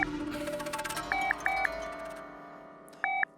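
A phone ringtone chirps in two short electronic bursts, then sounds again after a pause, layered over steady background music with no talking.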